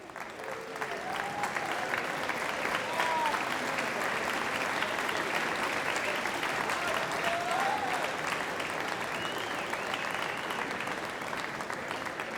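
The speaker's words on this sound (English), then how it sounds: "can we get a round of applause first for Liang Chu?" A large audience at the World Championship of Ping Pong final applauds a semi-finalist, with steady, unbroken clapping throughout and occasional voices calling out over it.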